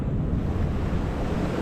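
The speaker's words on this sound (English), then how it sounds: "on a rough and windy day as the waves pound into the shore" Rough ocean waves pound against the shore at the foot of sea cliffs on the Big Island of Hawaii on a windy day, a loud continuous surf roar mixed with wind buffeting the microphone.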